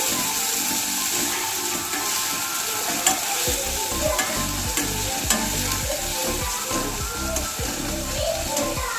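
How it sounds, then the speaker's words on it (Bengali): Chopped onions frying in oil for a dhaba-style egg curry, a loud steady sizzle with rhythmic stirring and scraping of a spatula throughout, close up and free of talk. "পেঁয়াজটাকে আমি হালকা ভাজা ভাজা করে নেব।"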